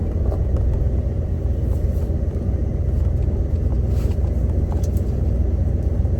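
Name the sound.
old camper truck driving down the road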